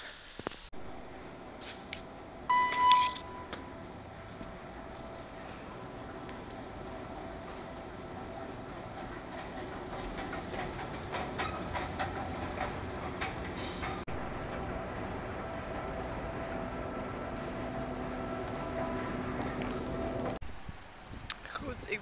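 Rumbling of a metro train running along the track, a steady rolling drone with brief clanks and a beep early on.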